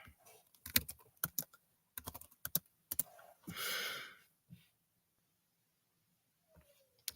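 Quick bursts of keyboard typing, clustered key clicks with short pauses, then a brief rustling swell before the keys fall quiet; close and fairly soft.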